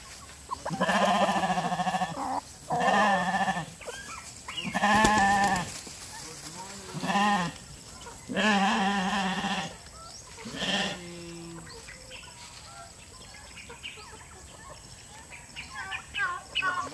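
Sheep and newborn lambs bleat in loud, close bursts, several calls separated by short pauses, then fade to a quieter background with faint chirping.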